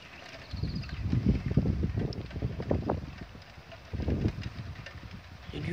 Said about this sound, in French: Du vent, vous voyez, hein, ça vente quand même un peu.